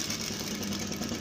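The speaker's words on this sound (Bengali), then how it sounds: "আমি সেলাইটা দিয়ে নিচ্ছি।" A sewing machine stitches the neckline of a three-piece kameez, its motor giving a steady, close mechanical hum with a fast, even whirr throughout.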